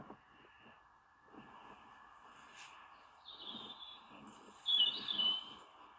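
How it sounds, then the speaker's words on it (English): Scattered high, thin notes of a European robin singing on a pitch-black April night, with a few brighter phrases late on and low rustling noise underneath. "It's actually a robin, a European robin."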